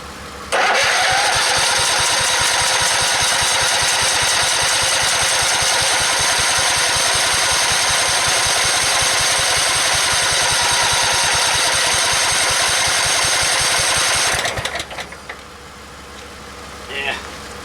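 A Scotts 1642 lawn tractor's small engine, unused for three years, cranks and catches, then runs at a steady, loud idle with a rapid chugging pulse before cutting off abruptly.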